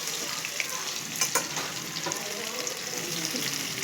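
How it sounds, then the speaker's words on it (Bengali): Onions sizzling in hot oil in a pan, along with whole cumin seeds and a bay leaf, for a Bengali potato and fish curry. The frying hiss is steady and close, broken by a few sharper crackles and spatters. "ফোড়নটা ভাজা হয়ে গেলে এবার আমি পেঁয়াজ দেবো"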